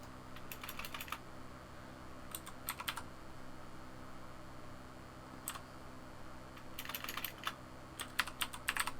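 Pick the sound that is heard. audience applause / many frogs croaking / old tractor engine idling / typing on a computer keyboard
typing on a computer keyboard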